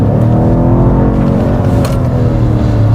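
A BMW M car, an M2 or M5, with its engine droning loudly and steadily from inside or close by, a low sustained tone with harmonics and no speech.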